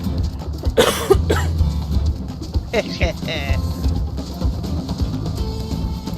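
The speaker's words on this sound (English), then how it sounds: "I'm still having a productive cough after dealing with sickness a couple weeks ago." A gamer recovering from an illness a couple of weeks earlier gives a few wet, productive coughs and clears the throat, close to the mic. Background noise and a short burst of game sound run underneath.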